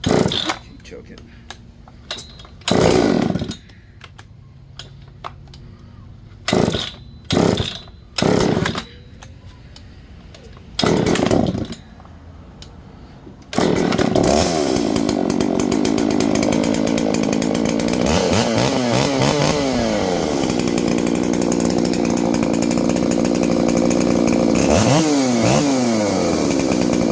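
An EFCO MT 8200 81cc ported chainsaw starts with several short pull-start bursts, then catches and runs loud and close, revving up and down with repeated throttle rises.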